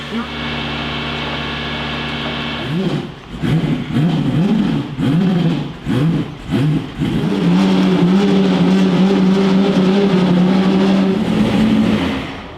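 Manual C8 Corvette drift car strapped to a dyno, engine held at a loud steady drone, then blipped in several sharp revs before climbing into a long sustained high-rpm pull near 9,000 RPM, very close and loud.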